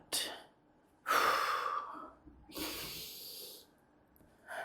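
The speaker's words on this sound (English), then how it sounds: "I'm not coordinating my breathing right." Heavy exercise breathing during a physical therapy strength workout for bones, with several loud, breathy gasps and exhales in bursts separated by short pauses, heard close up.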